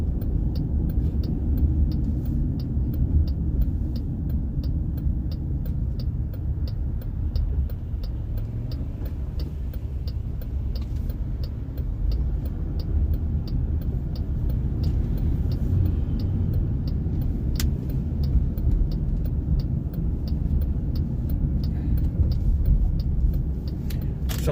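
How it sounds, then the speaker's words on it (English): Steady road traffic on the Las Vegas Strip, a continuous low rumble of car engines and tires rolling past, with no pauses or standout horns and no talking. "Some traffic up here."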